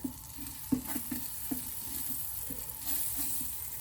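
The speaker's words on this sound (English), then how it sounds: "I'm gonna melt this down, let the butter brown just a little bit." Butter melting and browning in a pan for chicken noodle soup, giving a steady soft sizzle with light scraping taps from stirring, fairly quiet and close, with no voices.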